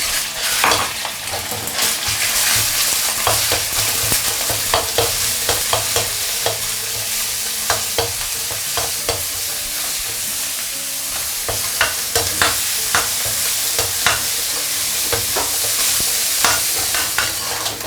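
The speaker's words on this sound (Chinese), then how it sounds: "下入我们剁好的五花肉末，" Minced pork belly stir-fries in a hot oiled wok, a steady close sizzle broken by frequent sharp scrapes and clacks of the spatula pushing the meat around, with no talking.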